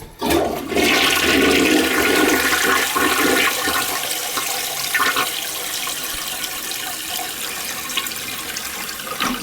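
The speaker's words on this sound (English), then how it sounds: "That's flushing." Toilet flushing in a house with low cold water flow, a loud rushing gush of water that stays steady and strong through the whole stretch with no talking.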